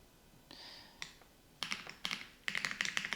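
Quick bursts of clicky keystrokes on a computer keyboard while a password is entered, starting as a few scattered taps and building into fast, close, uneven typing runs with no talk.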